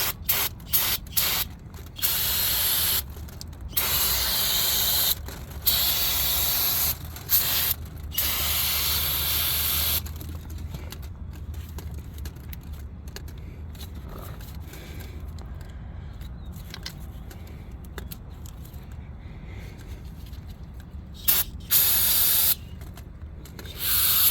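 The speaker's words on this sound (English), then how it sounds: "let me spray up the connector." Long, loud hissing bursts of aerosol brake cleaner spraying an oil pressure sensor connector on a 2012 Ford Transit Connect XL in repeated blasts, broken by brief pauses, with some faint mechanical clicks nearby.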